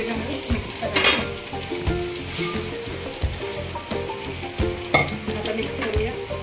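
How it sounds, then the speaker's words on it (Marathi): Poha being stirred into turmeric-tinted oil in a pan just after the gas is turned off, with a soft sizzle under repeated rhythmic scraping and tossing strokes. "आता गॅस बंद करू आणि पोहे घालून मिक्स करायचे।"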